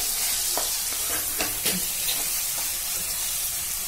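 Masala roasting in a pan for paneer tikka masala gives a steady close sizzle, broken by several sharp scraping strokes of a spoon stirring through it.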